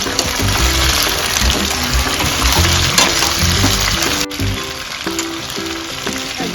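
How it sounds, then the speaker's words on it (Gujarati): Gunda (glue berries) frying in about five spoons of hot oil, a loud, steady close sizzle with stirring clatter running throughout. "ગુંદા થોડા તળી નાખીએ"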